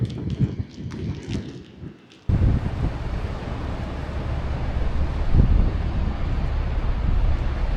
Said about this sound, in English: you can see the waves crashing over harbour walls there